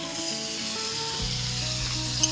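Potatoes and pumpkin frying in a pan hiss and sizzle as a little water goes in, a steady close crackle with a low hum and a brief clink near the end.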